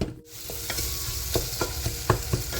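Ingredients for arisi paruppu sadam sauté in a pot, a continuous frying sizzle broken by periodic scraping clicks of a spoon stirring against the metal, close and moderately loud, with no talking.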